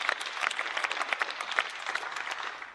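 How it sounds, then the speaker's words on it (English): Applause fills the European Parliament chamber, a dense steady clatter of many hands clapping close and loud throughout, tapering slightly at the end. "I want to recall that here today, Michel Barnier, who I want to applaud here for all the work he has done"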